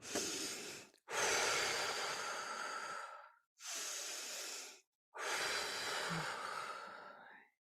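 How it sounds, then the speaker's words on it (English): Slow, breathy exhalations during a breathwork relaxation exercise, four long airy breaths out separated by short silences, close and soft with no talking. "just breathing all that air out"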